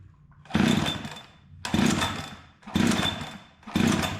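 A rebuilt, cold Husqvarna 372XP X-Torq chainsaw is pull-started without choke: four rasping cranking bursts come in a regular rhythm, each about a second long and separated by short pauses, and the engine never catches.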